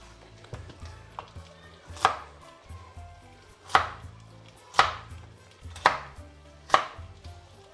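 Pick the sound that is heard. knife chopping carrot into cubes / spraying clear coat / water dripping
knife chopping carrot into cubes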